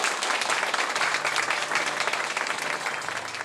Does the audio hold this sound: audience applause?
yes